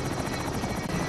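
Helicopter in the Call of Duty Modern Warfare 2 Plunder mode, a loud, close, continuous rotor thumping and engine roar.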